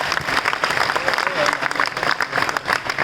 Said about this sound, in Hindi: बाबू का उद्धार करने के लिए अपने भाइयों के साथ बजाओ एक बार इनके लिए तालियां